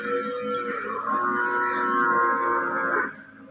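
A water buffalo on a dairy farm gives one long, loud, close moo lasting about three seconds, with no talking over it.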